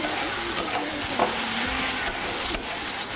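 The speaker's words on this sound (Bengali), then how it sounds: "হলুদের গুঁড়ো আর লঙ্কা গুঁড়ো দিয়ে মশলাটাকে ভালো করে নাড়িয়ে চাড়িয়ে ভেজে নিতে হবে" Masala with turmeric and chili powder fries and is stirred in a pan for fish kofta, giving a close, continuous sizzle broken by soft scraping strokes, with no speech.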